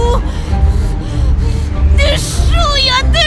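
Heavy, strained breathing and sharp gasps from a character in the video game Beyond Two Souls, repeated in close uneven bursts over a dense background, with whimpering tones near the end.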